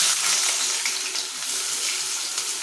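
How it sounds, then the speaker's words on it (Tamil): Sliced onion and green chillies fry in hot oil with mustard seeds, a steady, close, loud sizzle that holds without a break. "வெங்காயம் வதங்கட்டும்."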